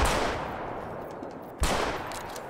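Two heavy rifle shots boom in Hunter Call of the Wild during a buffalo hunt, each loud blast followed by a long rolling echo, the second coming about a second and a half after the first.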